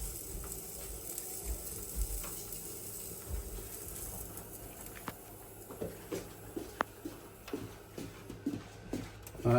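Seekh kebab sizzling quietly on a hot tawa with no oil, a steady soft hiss and crackle with occasional light taps and stirring clicks, heard alone without talking.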